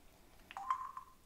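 An LG Chocolate KG800 phone gives a quick numeric button tone, a short, faint electronic beep heard up close in an otherwise quiet moment.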